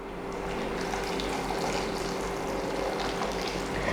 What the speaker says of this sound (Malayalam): ഇനി ഇതിനകത്തോട്ട് നല്ല തിളച്ച വെള്ളം ഞാൻ ചേർത്ത് കൊടുക്കുകയാണ്